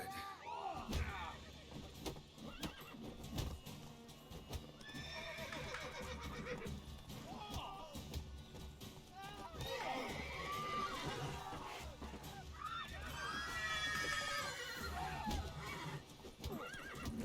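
A horse neighs and whinnies repeatedly in The Witcher 3 video game, with clip-clop hoofbeats, a slam and game voices talking throughout.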